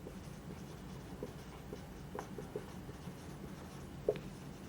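Chalk or marker writing on a board during a civil engineering lecture on valuation, a faint continuous scratchy patter of strokes with one sharper tap near the end, steady and close, with no talking.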